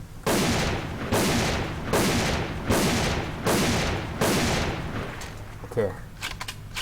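Sniper rifle from the Happy Snow gun set firing in a video game, six loud, evenly spaced shots about a second apart, each with a booming decay, followed by quick bolt-cycling clicks.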